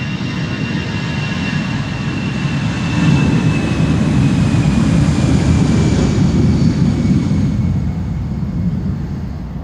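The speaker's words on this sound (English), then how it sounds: "This is EasyJet flight 27881 to Palma de Mallorca" An EasyJet Airbus A319 takes off from Schiphol's Polderbaan runway 36L, bound for Palma de Mallorca: a steady, loud jet roar with a high engine whine that swells in the middle and eases toward the end, heard alone.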